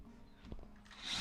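A handheld power drill boring into wood for a brief moment, with a short grinding rattle as the drill bit breaks, then the motor whirring up loudly and close.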